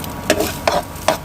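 Eggs fry in mustard oil with a steady low sizzle, broken by three evenly spaced scraping strokes of a spatula against the pan.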